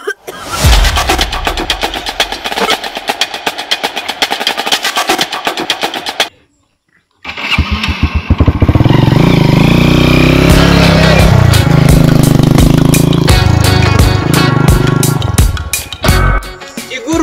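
A motorcycle engine in a Sylheti comedy drama fires in a fast, loud staccato of pops for several seconds, falls silent briefly, then roars back into a heavy continuous rumble that holds before easing off.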